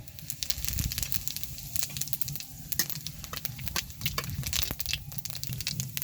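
Whole cumin seeds dropped into hot mustard oil already holding a green cardamom pod and a clove, giving a faint steady crackling sizzle with scattered sharp pops, close and alone.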